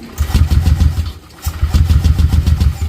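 A motorcycle engine with a burnt-out spark plug cranks and sputters but fails to start. Two loud, close bursts of rough, uneven chugging are separated by a brief pause.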